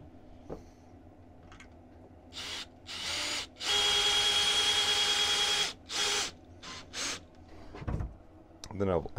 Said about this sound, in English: I'll just screw these together with single screws on them for now